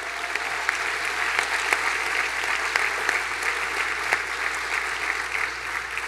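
An audience at a school district recognition breakfast claps in a steady round of applause, dense and even from start to finish with no talking.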